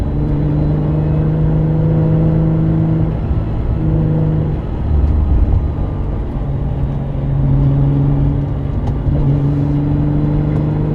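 A car engine pulls hard and steady, its harmonic drone rising and falling with revs, close and loud, with no talking over it.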